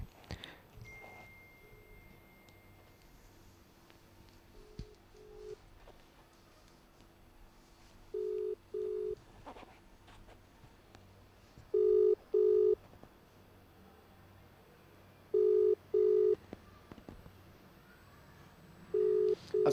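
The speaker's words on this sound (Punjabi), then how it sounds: "ਪਹਿਲਾਂ ਚੁੱਕੀ ਨਹੀਂ ਕਾਲ ਹੁਣ ਦੁਬਾਰਾ ਲਾਈ ਆ ਹੁਣ ਦੇਖਦੇ ਆਂ ਵੀ ਹੁਣ ਚੁੱਕਦੇ ਆ ਜਾਂ ਨਹੀਂ ਚੁੱਕਦੇ" An outgoing phone call rings while waiting to be answered: paired ringback beeps repeat about every three and a half seconds over a faint, hissy line with no one speaking.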